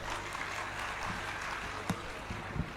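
Audience clapping at a Bhagavat Katha religious discourse, a broad, steady wash of applause from a crowd, with a few sharper claps standing out near the end.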